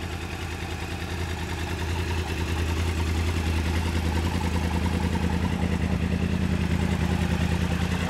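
A white Yamaha YZF-R1 superbike's cross-plane crankshaft engine idles steadily nearby with a lumpy, uneven throb, rising slightly in level and holding for several seconds without any voices.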